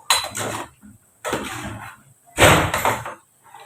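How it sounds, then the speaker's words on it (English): Coated peanuts being stirred in a cooking pot, three loud bursts of rattling and scraping as the nuts tumble against the metal, separated by short pauses, close up. "so let's also give it a little stir again."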